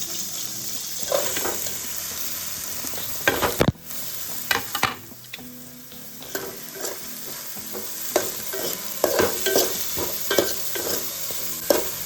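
Onion, green chili and garlic fry in hot oil for a masala dosa filling, a close, continuous sizzle broken by repeated stirring scrapes and a few sharp knocks against the pan.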